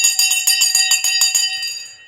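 A bright bell rings rapidly, about a dozen quick metallic strikes in a continuous trill that fades out with a lingering ring, loud and alone with no talk.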